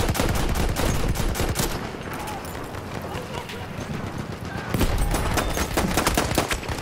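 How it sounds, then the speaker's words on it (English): Rapid gunfire from a Cei-Rigotti rifle on the Giant's Shadow map in a shooter game empties a whole magazine in dense, crackling bursts, with a brief lull midway before the shots resume loud and close. "I just shot this assault player with a whole magazine, and he's not dead."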